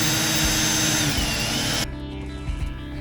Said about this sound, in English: let's try the really scary part in drilling